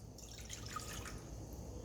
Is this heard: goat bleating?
no